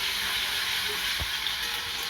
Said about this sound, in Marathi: इथे आपला टमाटा छान फ्राय होते